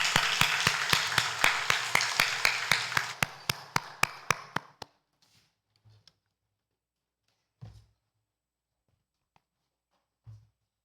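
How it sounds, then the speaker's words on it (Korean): A church congregation at a Sunday service claps together in a fast, even rhythm for about five seconds, then stops abruptly, leaving a few scattered faint taps and near silence. "하나님께 영광의 박수 올려드립시다"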